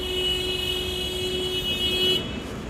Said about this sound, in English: Give me some more angry honks.